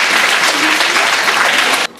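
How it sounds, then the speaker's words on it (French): Loud, dense applause from a theatre festival audience, steady for nearly two seconds before cutting off abruptly. "on va applaudir très fort"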